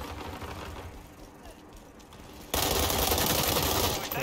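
Gunfire in a free online shooter video game, quieter clattering at first, then a sudden loud burst of rapid automatic fire for the last couple of seconds.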